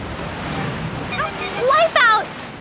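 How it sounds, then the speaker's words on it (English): A big ocean wave surges and crashes in a cartoon surfing scene, a broad rushing wash that fades under an excited narrating voice. "And here comes a really big wave!"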